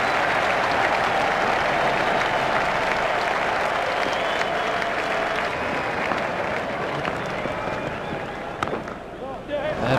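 A cricket crowd at a T20 World Cup match between India and Sri Lanka erupts in loud, sustained applause and cheering after a boundary, a dense roar of clapping that tapers slightly near the end, with a commentator's voice mixed in.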